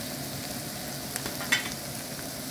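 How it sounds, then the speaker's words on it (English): Vegetables with carrot sizzling and being stirred in a pan for a Chinese vegetarian stir fry, a steady hiss of frying with a few soft scraping stirs, close and continuous, no talking. "now we are gonna fry them all together."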